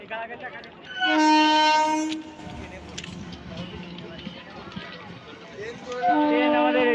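A train rumbles along the rails near the Thakurnagar mela, with two long blasts of its horn, one early and one at the end, and a steady running rumble between them. People talk nearby.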